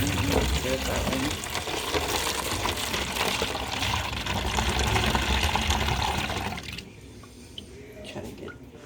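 Homemade apple cider vinegar pours steadily into a bowl in a dense, splashing gush for several seconds, then the flow stops and only a few faint drips follow.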